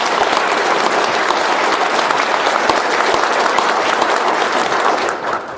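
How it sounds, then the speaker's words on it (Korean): An audience at a seminar applauds loudly and continuously, a dense wash of many hands clapping close by, tapering slightly at the very end. "우리 신 의원님께 뜨거운 박수를 부탁드립니다"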